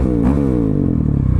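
A KTM 690 SMC R single-cylinder motorcycle fitted with a LeoVince exhaust revs up and then drops back, a loud, close, throaty burst with a rough, crackly edge.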